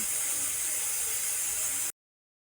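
Pressure cooker whistle on a gas stove set to high flame, venting steam while matar dal cooks, a steady loud hiss that cuts off abruptly near the end.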